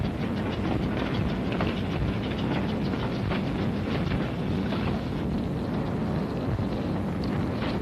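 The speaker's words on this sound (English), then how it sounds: "the trains loaded with war wearies going back for salvage" Trains loaded with war supplies rumble past in a steady, dense roar with faint rhythmic clatter of railroad cars, continuous and fairly loud throughout.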